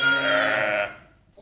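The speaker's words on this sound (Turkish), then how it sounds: "kokusu ve sesi sayesinde yüzlerce koyun arasından annelerini bulmaya çalışan yavrular" A single loud, close sheep bleat rings out from a pen full of newborn lambs and ewes in spring, then quickly fades into quiet, with no talk over it.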